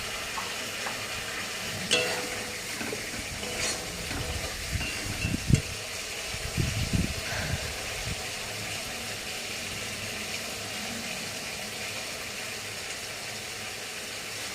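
Food fries in oil in a home kitchen: a soft, steady sizzle runs throughout, with scattered stirring clatters near the middle, fairly quiet.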